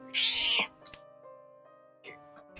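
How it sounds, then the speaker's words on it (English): A house cat lets out one loud, close meow at the start, followed by softer, shorter vocal sounds and a faint hum in the background of an indoor room. "Need to throw this cat out though."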